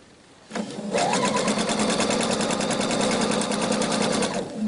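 A sewing machine runs a straight seam at 2.5 mm stitch length on a girl's dolman dress, starting up abruptly and holding a rapid, even mechanical rattle close by until it slows at the end.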